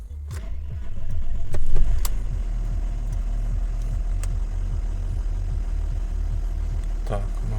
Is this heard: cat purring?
no